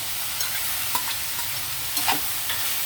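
Potato pieces fry in a pan with capsicum, a steady loud sizzle broken by several sharp scrapes and clinks of stirring.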